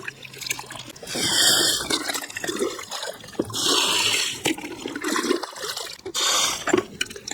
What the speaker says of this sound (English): We have to remove the water from the top.